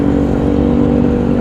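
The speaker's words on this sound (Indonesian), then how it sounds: "Kalau bisa itu kita itu janganlah memakai knalpot brong gitu ya, terlalu berisik, nggak enak aja didengar ya." A motorcycle with a loud, open aftermarket exhaust rumbles in a steady, heavy drone during morning traffic congestion, dominating the scene from about twenty meters away without a break.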